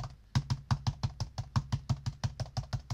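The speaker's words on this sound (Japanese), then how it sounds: "で、布を置いて、キーボードを打つと" Typing on a computer keyboard resting on a cloth, about fifteen steady evenly spaced keystrokes with a muffled thud, close and alone.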